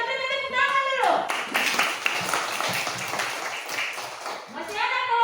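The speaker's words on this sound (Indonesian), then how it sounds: "kita beri tepuk tangan dulu" A classroom group claps after a student presentation, a burst of quick, scattered hand claps lasting several seconds, with voices speaking at the start and end.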